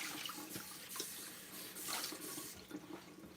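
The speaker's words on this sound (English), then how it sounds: "I ran the water long enough that I have hot water here now." Hot water runs steadily from a kitchen sink tap during house cleaning, a soft continuous splashing hiss with faint clatter, fairly close and quiet.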